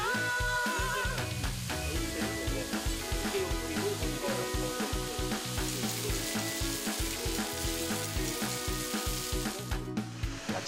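Beef tripe, large intestine and heart sizzle loudly on a grill at a Busan restaurant, a dense continuous crackle and spatter close up with rhythmic scraping pulses throughout.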